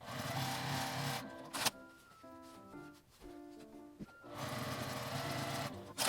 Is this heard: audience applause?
no